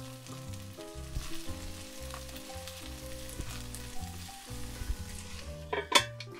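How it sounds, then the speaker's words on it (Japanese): Rapeseed blossoms sizzle and steam in a covered frying pan for a garlicky peperoncino-style stir-fry, giving a continuous close crackle and hiss with faint lid and pan clinks and a sharp clatter near the end. "この状態でもう一度蓋をして蒸し焼きにしていきます。"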